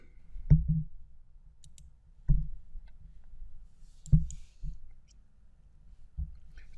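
Computer mouse clicks while navigating Windows system settings: five sharp, close clicks spaced a couple of seconds apart, some in quick double pairs, over a quiet background.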